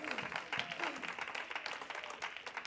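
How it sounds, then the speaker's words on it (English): A church congregation claps hands in praise during a sermon, a dense, steady patter of many hands close by that runs throughout without any talking over it. "Give the Lord a hand clap of praise."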